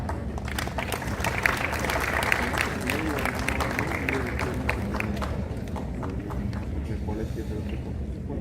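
Sustained audience applause at a national homoeopathic summit in Vadodara, dense steady clapping from a large seated crowd welcoming dignitaries, with voices faintly mixed in throughout.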